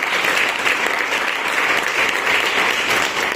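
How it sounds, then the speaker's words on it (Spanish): A church congregation bursts into loud, sustained applause, a thick, even roar of many hands clapping that holds steady throughout, with no speech heard. "déle ese fuerte aplauso, Señor."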